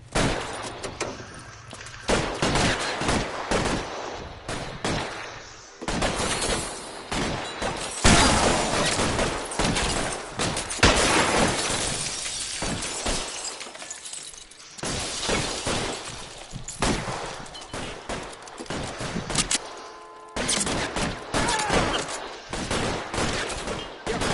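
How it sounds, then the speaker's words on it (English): Sustained gunfire erupts in the LA Noire video game, dense bursts of shots and breaking glass in a long, loud barrage with brief lulls, a voice calling out faintly now and then. "Gunfire! Gunfire!"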